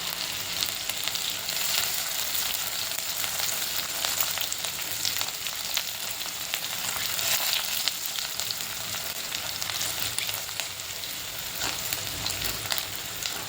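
Onion sizzles in hot oil with garlic, green chili and ginger for a lasooni palak dal, a steady crackling fry with small pops throughout, close and continuous with no voices.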